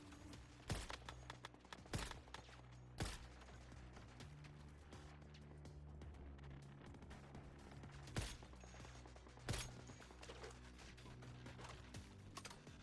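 Game gunfire in the survival shooter Once Human, in the red sands zone: a handful of sharp, loud shots at irregular intervals, some in quick pairs, over a steady droning ambient bed.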